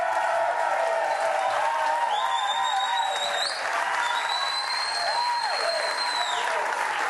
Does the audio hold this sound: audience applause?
yes